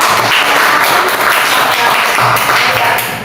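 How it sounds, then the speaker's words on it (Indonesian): Classroom applause for a student, a steady wash of clapping from the group that fills the whole moment at close range, with some voices mixed in. "tepuk tangan untuk Mbak Nina ya"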